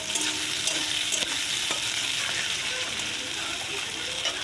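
Onions frying in hot oil in a kadai hiss in a steady, loud sizzle while a spoon stirs them, adding scraping taps and bursts of crackle, up close throughout.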